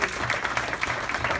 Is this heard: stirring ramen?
no